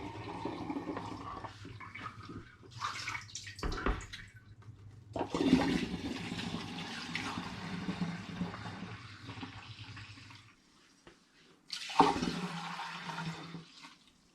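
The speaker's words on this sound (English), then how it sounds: "I'm also going to use a sieve as well to pour through." Tomato paste wash for distilling poured through a sieve into a demijohn, with bursts of rushing, splashing liquid that pause and restart, close by and fairly loud.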